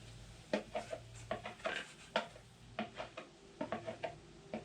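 Homemade Bastille soap being strained and stirred back into a junk container, heard as quiet, irregular clinks and scrapes of a utensil against the vessel in uneven bursts.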